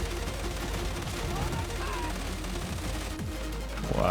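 Rapid automatic gunfire rattles in a Darktide match, dense bursts of shots layered over game ambience with a faint voice underneath.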